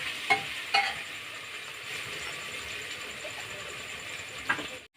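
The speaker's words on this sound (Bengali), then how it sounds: "মশলাটা এই যে কষাচ্ছি" Ground spice masala stir-fries in hot oil inside a pressure cooker for biryani, giving an even, continuous hiss, with a few sharp scrapes of a spoon near the start and again near the end.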